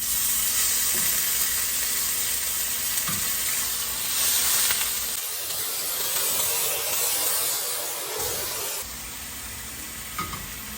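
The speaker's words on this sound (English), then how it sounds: "Garlic in the pan." Garlic sizzles steadily in a frying pan, a loud continuous hiss with occasional stirring scrapes, close and without talk.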